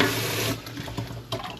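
Cold water pours into a pan of fried instant noodles during cooking, a loud rushing splash for about half a second that settles into lighter bubbling and spattering.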